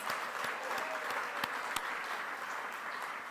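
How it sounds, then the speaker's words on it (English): A dinner audience claps steadily in a dense, continuous wash of applause, with a few sharper individual claps standing out. "we're going to just give Bob a round of applause several times."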